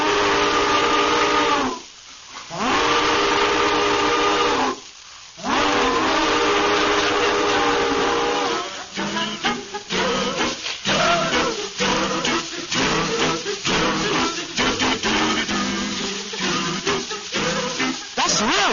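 A steam train in an old-time radio drama, with a long sustained whistle sounding in two blasts over continuous hissing steam and chuffing, loud and close, no voices.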